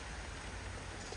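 Rain falling steadily on a surface outdoors where a racing pigeon is being watched, heard as faint, even broadband hiss with no voices.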